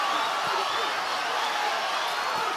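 A boxing crowd on its feet at a fight between Jonas Sultan and Carlos Caraballo, a steady broad roar of cheering filling the arena throughout.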